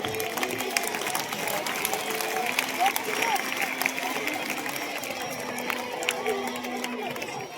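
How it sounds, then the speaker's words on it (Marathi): An audience of students and guests at a school Guru Purnima celebration claps steadily and loudly, a sustained dense patter of applause with faint chatter underneath. "सर्वांनी जोरदार टाळ्या वाजवा"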